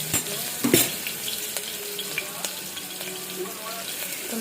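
Chopped onion dropped into hot oil with asafoetida for Gujarati guvar shaak, a soft crackling sizzle with a burst of splattering near the start, then a quieter steady fizz with scattered pops and light clinks.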